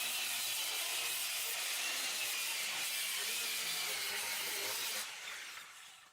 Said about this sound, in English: cut the bevel all at once using my circular saw